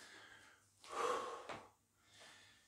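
A person doing lunge exercises breathes heavily, a few close, loud gasping inhales and exhales rising and falling in a steady effortful rhythm.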